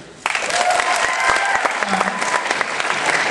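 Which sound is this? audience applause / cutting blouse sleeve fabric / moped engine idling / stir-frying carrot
audience applause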